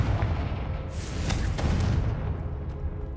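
In the Hogwarts Legacy video game, a Confringo spell sets off a deep, booming explosion that rolls in loudly and fades over a few seconds, heard alone.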